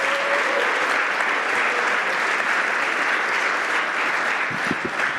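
An audience applauds steadily at a pre-departure briefing, a dense, loud wash of clapping that holds evenly throughout with no voices rising above it.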